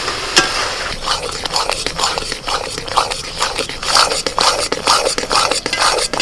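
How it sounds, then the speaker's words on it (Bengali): A spoon works steadily through semolina barfi in a pan over a low flame while sugar syrup goes in. The scraping and stirring strokes sound close and continuous, with a soft sizzle underneath. "একটু নাড়াচাড়া করে গরম করে নিয়ে এবার আমি চিনি সিরাটা দিয়ে দিচ্ছি"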